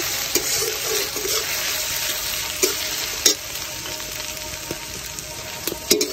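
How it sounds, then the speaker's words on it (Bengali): Cubed chicken pieces fry in hot oil with a steady, loud sizzle, while a utensil stirs the pan and makes occasional close clinks and scrapes. "তেল গরম হয়ে গিয়েছে, এবারে কিউব করে রাখা চিকেনের টুকরাগুলো এর ভিতরে দিয়ে দিচ্ছি। সুন্দর করে নাড়িয়ে নেব।"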